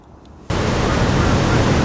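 Waterfall at Nay Aug Park in Scranton, Pennsylvania, a sudden, loud, steady roar of rushing water that fills the scene after a quieter moment.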